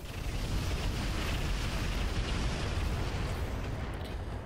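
Thunderbolt missile barrage in the mech combat game Roguetech, heard as a dense, continuous rumbling roar of explosions and booming impacts, loud and sustained throughout without pauses.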